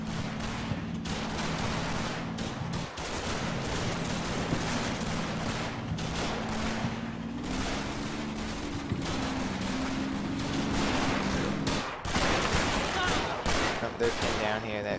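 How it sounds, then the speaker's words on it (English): Dense machine-gun fire and scattered rifle shots crackle nonstop through a Combat Mission: Battle for Normandy battle, a steady wall of distant gunfire over a low engine hum, with a sharper burst near the end. "It's a good old-fashioned shootout going on right now. There's a lot of machine guns."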